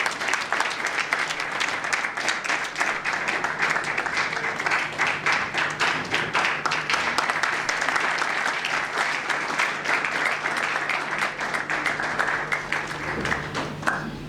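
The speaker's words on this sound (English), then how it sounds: "a hand of applause for Hope of the Seven" A seated audience at a college event gives sustained applause, a dense, even wash of many hands clapping that continues steadily and fairly loud from start to finish.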